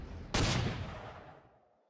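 A single loud gunfire blast from a unit attack in Panzer Corps 2, with a sharp onset and a long rumbling decay that fades over about a second and a half.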